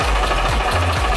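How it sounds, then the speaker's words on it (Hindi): A tractor engine runs close and loud, with a continuous low, rhythmic mechanical chug and a faint ticking pulse, heard alone for a brief moment. "आज आपको ट्रैक्टर की सवारी कराते हैं, फिर ट्रैक्टर भी रखते हैं हम।"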